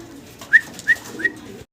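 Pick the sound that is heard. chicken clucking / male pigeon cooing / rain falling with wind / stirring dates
male pigeon cooing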